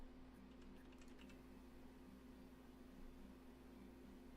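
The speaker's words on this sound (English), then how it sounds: "All right, I'll stop typing now." Soft, quick keystrokes on a computer keyboard clatter faintly over a low background hum during the first second and a half, then fade into quiet room noise.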